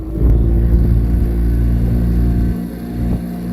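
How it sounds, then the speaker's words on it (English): A Fishrite 24-foot center console boat's engine throttles up, a loud steady low drone that swells early and eases slightly near the end, with no talking. "Then you notice I'm going to throttle up here."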